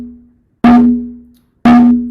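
Two open tone strikes on a Latin percussion hand drum, each a sharp slap with a sustained ringing pitch that decays naturally, loud and close, about a second apart.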